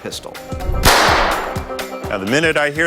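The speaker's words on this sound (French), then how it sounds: "nous ne pourrons bouger qu'au coup de feu de Mike." A single sharp crack like a gunshot, fired as a starting signal for a duel test, bursts out amid voices, with a brief noisy tail before the talk resumes.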